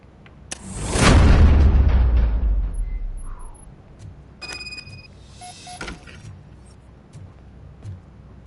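A door being blasted open in Robocop Rogue City: one loud, close explosion with a deep rumble that fades over a couple of seconds, followed by scattered electronic beeps and clatter.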